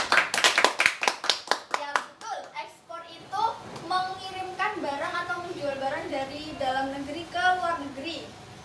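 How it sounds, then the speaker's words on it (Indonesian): Classroom applause for a student during a lesson: a burst of sharp hand claps over the first three seconds, then a teacher and children talking. "tepuk tangan untuk Alvin"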